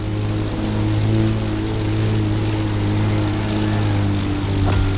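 Propeller engine of a Red Bull aerobatic plane in the racing game The Crew Motorfest, a steady, loud, droning buzz with strong harmonic hum that holds throughout, no talking.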